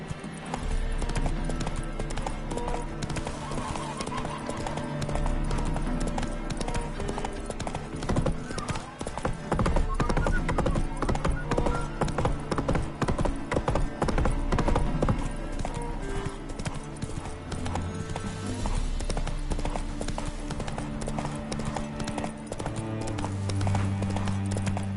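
Geralt's horse Roach trotting in The Witcher 3, with steady, loud rhythmic hoofbeats and clip-clop throughout, set over game music and ambience.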